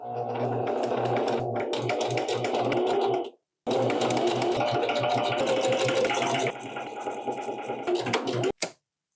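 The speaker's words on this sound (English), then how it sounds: "I'm just gonna sew it to the 1/4 inch seam allowance" A sewing machine stitches a drawstring at a quarter-inch seam allowance, a fast, loud mechanical whir with rapid needle chatter that breaks briefly, resumes, then slows and stops near the end.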